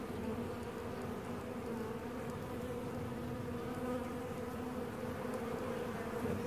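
Bees buzz steadily at a hive with open drawn comb on a warm day. A continuous close droning hum, fairly faint, with no talk.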